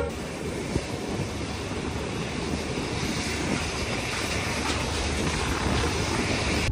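Train pulling into Tumkur station in Karnataka, heard as a steady loud rumble of wheels and carriages with a broad rushing hiss that holds throughout, without any voices.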